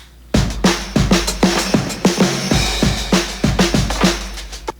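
A drum groove with a busy fill of quick hits tumbling across the pattern, punchy and loud, backed by deep low-end thumps.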